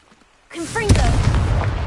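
A Confringo fire spell blast in Hogwarts Legacy bursts in after a brief quiet, a sharp crackling boom that rolls into a loud, sustained fiery rumble with rising whooshes layered on top.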